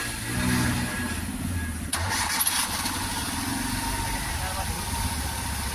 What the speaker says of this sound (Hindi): स्टार्ट करो गाड़ी को।